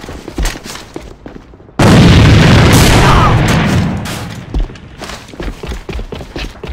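A grenade goes off in an online first-person shooter, a sudden loud boom that rumbles for about two seconds and then tails off. Lighter thumps and game sounds follow, with no talk.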